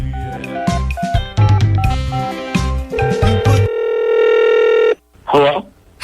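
Telephone dialing tones beep in a quick run over a radio studio bed, then a long steady dial tone before the line picks up for a prank call.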